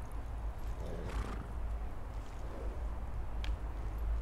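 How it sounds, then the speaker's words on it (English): A horse in the video game Ghost of Tsushima neighs and whinnies, with hooves clip-clopping softly beneath, heard alone at moderate level over a low ambient rumble. "Let's take the black horse."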